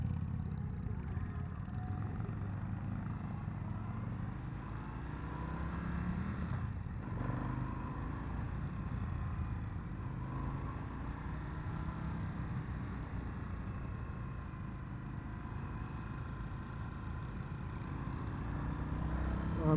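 A 2022 Indian FTR R Carbon motorcycle is ridden, its engine droning steadily with wind rush throughout, the pitch shifting slightly as the bike accelerates and corners.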